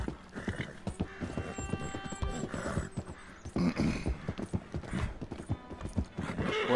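Steady hoofbeats clop along under game sounds, with a horse snorting and a faint whinny, moderately quiet and continuous.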